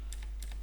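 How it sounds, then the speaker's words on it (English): Several light, quick keystrokes on a computer keyboard as an IP address is entered, faint clicks over a low steady hum, with no voices. "let me just type here a normal IP"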